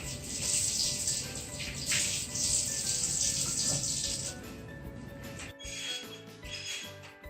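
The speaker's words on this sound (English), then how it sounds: "make sure to rinse your hands under running water" Hands rinsed under a running tap of warm water: a steady, close rushing hiss lasts about four seconds, then drops to quieter splashing.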